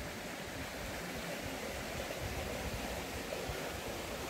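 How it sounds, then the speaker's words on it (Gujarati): A river rushes over large stone boulders near the Sarkadiya Hanuman temple in Junagadh, a steady, dense roar of flowing water that holds constant throughout with no voices. "આ નદી મોટી મોટી પથ્થરની શિલાઓમાંથી પસાર થઈ અને એ આગળ જાય છે."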